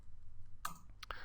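A few quick clicks from a computer keyboard while typing a command in a Linux terminal, two sharp close taps about half a second apart over quiet background hiss.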